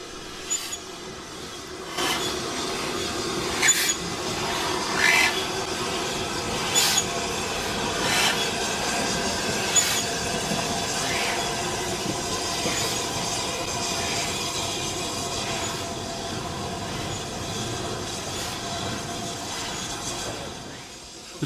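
The steam locomotive Camelot runs on the Bluebell Railway, a loud, continuous rumble of rolling carriages with rhythmic wheel clatter and intermittent bursts of hiss and squeal.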